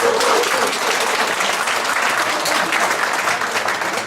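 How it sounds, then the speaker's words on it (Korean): Audience applause at a business association's extraordinary general meeting and New Year gathering in Songpa, Seoul: a dense, steady burst of many hands clapping that fills the room throughout. "앞에 계신 분을 위해서 박수 한번 부탁드리겠습니다"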